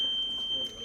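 A household smoke detector emitting a steady high-pitched electronic beep in a home kitchen, one continuous tone that cuts off briefly near the end over faint room noise.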